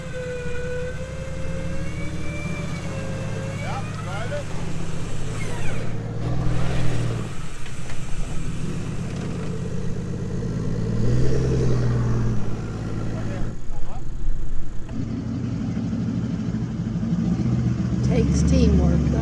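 A 4WD vehicle engine droning steadily while driving an off-road track in Tasmania, loud and close, rising and falling with effort, with people talking over it.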